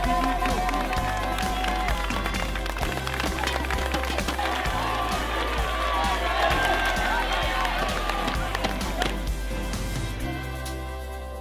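Spectators applaud and cheer along the road at the 2015 French cycling championship, a steady crowd din with clapping under loud talk and a low rumbling background throughout.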